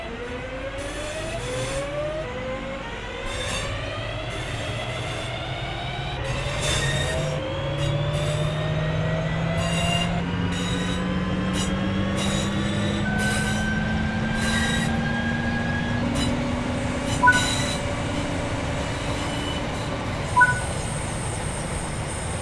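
A British Rail Class 323 electric multiple unit pulls away and moves along the line in Train Sim World 3, with rising motor whine, steady rolling rumble and occasional short wheel squeals over about twenty seconds.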